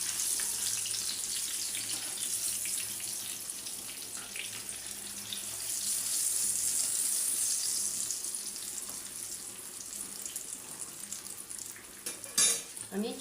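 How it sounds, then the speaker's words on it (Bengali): Chicken chaap frying in a pan sizzles with a steady hiss, joined by clinks of utensils and a short clatter near the end, fairly quiet and close, with no talking. "আমি চুলা কমায়ে আস্তে আস্তে ভাজবো যাতে চিকেনের ভিতরেও মশলা ঢুকে ভাজা হয়"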